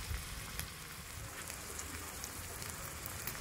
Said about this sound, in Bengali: নাড়াচাড়া করে আমি এবার মশলাটা ভেজে নেব।